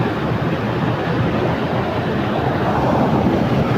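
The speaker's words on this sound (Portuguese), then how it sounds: "Cachoeira da água caindo" A waterfall in natural surroundings, a constant loud rushing roar of falling water filling the whole moment without a break, heard up close and with no voices over it.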